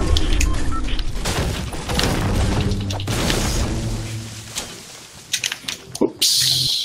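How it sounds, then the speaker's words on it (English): Grenade blasts in a Fortnite squad match, a dense run of loud booming bursts with rumbling low end over the first few seconds, then sharper scattered pops near the end. "I dropped some grenades."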